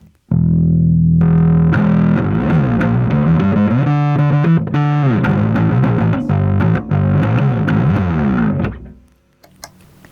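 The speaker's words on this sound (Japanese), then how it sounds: "今のがメインの音で、これに歪みを足したいなということでウエストウッドを導入しました" Bass guitar played through a Westwood overdrive pedal, thick distorted tones with sustained low notes and chord-like passages, loud and continuous with no talking, fading out at the end.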